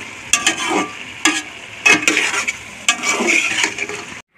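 Mixed vegetable curry with chilli sauce stirred in a pan over a low flame, with irregular bursts of spoon scraping and clatter over a soft sizzle, close, with no talk.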